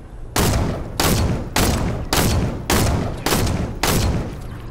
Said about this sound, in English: The people shooting at us aren't good.